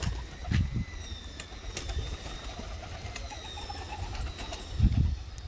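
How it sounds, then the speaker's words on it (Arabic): Young pigeon chicks kept in a loft give low soft coos, two muffled bursts a few seconds apart, amid faint chirps and quiet room ambience. "طبعا حمام مش لابسه لانها فراخ"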